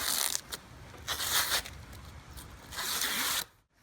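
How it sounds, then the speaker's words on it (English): Tape pulled off a tank pad in three long ripping peels with short pauses between, close and fairly quiet, ending in a brief silence. "Now we can pull the rest of our tape off."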